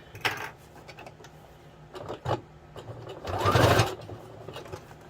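Sewing machine stitching fabric for a critter apartment, heard as short stop-start bursts of needle clatter and then a longer, louder run of stitching near the end, close to the mic.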